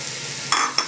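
Chopped beans and carrots go into masala frying in oil for a mushroom pulao, producing a steady low sizzle and then two quick scraping stir strokes near the end.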